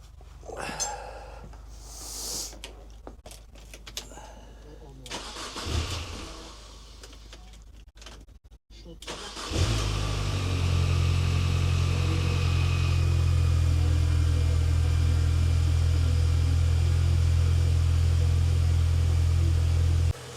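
Quiet shuffling and handling noises, then a Mini Cooper engine cranks and catches, settling into a steady, smooth idle that continues to the end.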